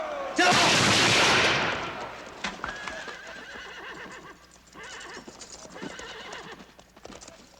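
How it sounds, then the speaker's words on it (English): A soldiers' rifle volley fired above the heads of attackers, a loud burst of gunfire at the start that fades into horses clip-clopping, neighing and snorting nearby, with the clatter continuing throughout. "Volley fire. Present. Aim above their heads. Fire."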